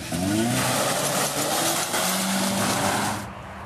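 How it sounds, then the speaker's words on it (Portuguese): A car leaving an accident scene accelerates hard with screeching tires, a loud close engine rise and squeal that fades out abruptly at the end, with no talk. "O homem deixa o local acelerando forte e cantando os pneus."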